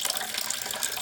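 Water gushing out of a Toyota Prius, a dense, steady splashing rush that is loud and continuous for the whole second.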